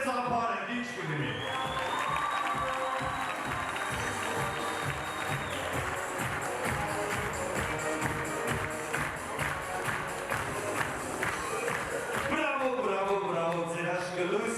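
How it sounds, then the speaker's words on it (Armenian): Wedding guests clap warmly and steadily, a full crowd applauding in a hall, with voices and a sung or held tone mixed in throughout. "Մի հատ արեք ինձ սրտե ծափարը, ինչ կլինի։"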